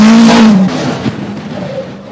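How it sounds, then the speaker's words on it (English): A 1977 Toyota rally car broadsiding through a seafront special stage at Llandudno, its engine snarling loud and close at first, then fading quickly as it slides away. "Mikkola broadsides the Toyota."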